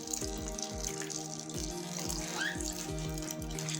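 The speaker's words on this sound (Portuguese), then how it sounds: "E agora a gente vai colocar em torno de 700 gramas de água morna." About 700 grams of warm water being poured for long-fermentation bread dough, a steady soft splashing pour with faint rhythmic clicks underneath, quiet and continuous in a home kitchen.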